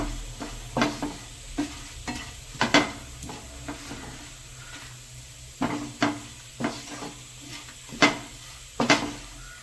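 A spoon scrapes and stirs roasted grated coconut and spice powders in a pan, giving irregular soft clinks and scrapes over a faint, quiet sizzle.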